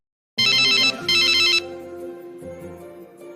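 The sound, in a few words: telephone ringing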